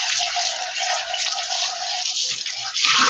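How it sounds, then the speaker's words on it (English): Tap water runs steadily into an aluminium can being rinsed out before recycling, a close, continuous splashing gush with a brief louder surge near the end. "while I rinse this can out before throwing it in the recycle bin"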